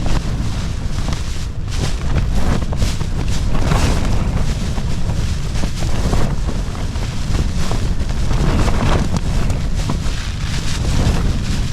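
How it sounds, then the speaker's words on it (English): Harsh storm wind buffets a wild camp on Snowdon during Storm Agnes, roaring steadily and loudly across the whole span with gusty surges and rumbling microphone buffeting, no voices present. "That is a really, really harsh wind."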